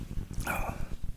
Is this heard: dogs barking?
yes